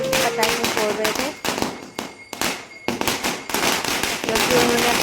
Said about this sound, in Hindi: यहाँ पे बच्चे पटाखे फोड़ रहे थे